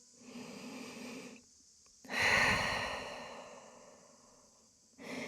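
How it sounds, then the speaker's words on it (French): A long, deep breath is drawn and released while holding the Camatkarasana (wild thing) yoga posture: a soft inhale, then a fuller airy exhale that slowly fades, close and quiet. "Et on vient prendre une dernière grande respiration dans cette posture."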